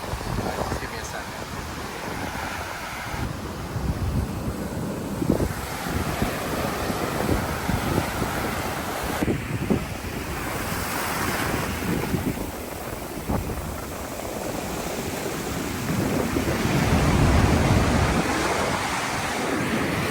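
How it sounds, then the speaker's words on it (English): Light wind of about 5 to 10 knots blows over the ocean off Maui, a steady rush of surf and buffeting microphone wind lasting throughout, with people talking intermittently. "It is very light wind. It's like 5-10 knots."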